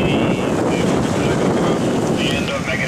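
A sailboat running under a cruising chute at about 6.7 knots in 10 knots of wind, with steady, loud wind buffeting and rushing water throughout, faint voices mixed in.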